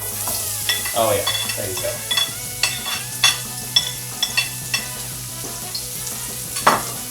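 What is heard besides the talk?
onions sizzling in a pan with caramelized sugar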